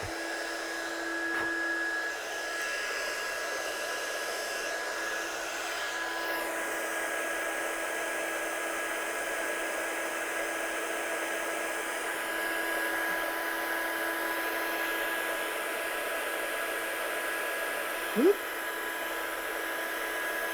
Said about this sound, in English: Get my heat gun again.